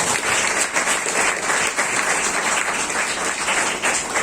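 An audience in a church applauds a couple, a sustained wash of many hands clapping, loud and steady from start to finish with a slight rhythmic pulse.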